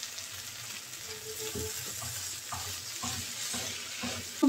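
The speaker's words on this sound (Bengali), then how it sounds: "একটু লালচে করে ভেজে নেব।" Bharta ingredients of boiled shrimp, jackfruit seeds, pointed gourd and yardlong beans frying in a pan until reddish, a steady close sizzle broken by repeated scraping stirs that grow a little louder near the end.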